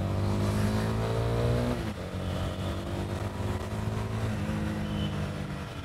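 A Honda Bigwing motorcycle accelerating in second gear, its engine note rising steadily then dropping briefly at a shift before climbing again, loud and close with constant road and wind noise.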